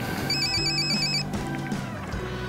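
A telephone bell rings in repeated electronic trills across the clip, steady and fairly loud against a busy indoor background with no talking.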